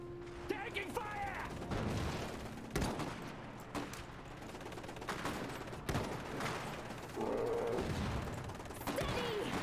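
Gunfire from the real-time strategy game Iron Harvest: scattered sharp shots and bursts of rifle and machine-gun fire, with clanking mechanisms, mixed among game voice lines and sound effects at moderate level.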